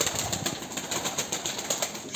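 Pigeons in a loft just after feeding, giving steady soft coos with some wing flapping, a continuous close flutter of bird sounds with no voices.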